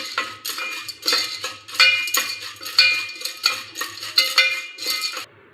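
A metal lid clatters on a home popcorn pot in a string of bright, uneven clinks and knocks, close and fairly loud, with no talking.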